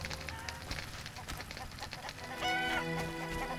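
Chickens clucking as they roam freely near an inn entrance in The Witcher video game, a busy run of short clucks over background music, growing louder toward the end.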